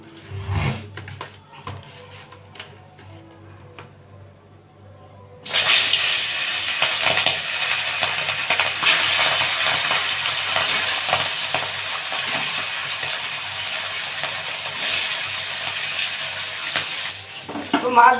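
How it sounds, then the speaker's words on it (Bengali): Hilsa fish goes into hot oil in a heated pan: a faint quiet start, then a sudden loud, continuous sizzle and crackle that keeps up to the end. "তেল গরম হয়ে গেছে, তো মাছ আমি এবার দিয়ে দেব উনুনে।"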